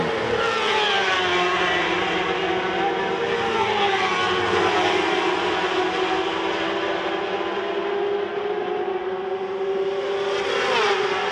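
Racing motorcycles lap the Macau Grand Prix street circuit in qualifying, their engines a loud continuous high-pitched whine with shifting pitch sweeps as several bikes pass and rev, filling the whole stretch without a break.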